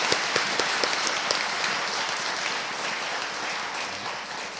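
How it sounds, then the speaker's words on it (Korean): A lecture audience at a Korean public academy event with a novelist gives sustained applause, a steady even wash of many hands clapping at moderate distance throughout, with no talking over it. "다시 한번 박수 부탁드리겠습니다"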